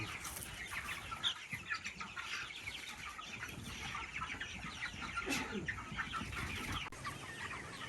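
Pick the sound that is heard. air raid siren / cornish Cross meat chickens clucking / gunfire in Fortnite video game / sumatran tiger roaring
cornish Cross meat chickens clucking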